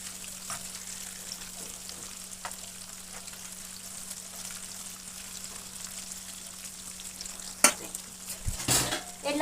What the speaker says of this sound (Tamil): எல்லாத்தையும் நாங்கள் இது மாதிரி பொரிச்சு எடுத்துட்டு காட்டுறோம்